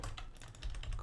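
A brief run of close, quick keystrokes on a computer keyboard while code is edited in a game project, a dozen or so soft clicks in about a second.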